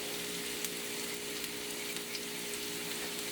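Potato stuffing mixture sizzles steadily in a pan, a continuous fine crackle and hiss of frying with small pops, close and moderately loud with no talking.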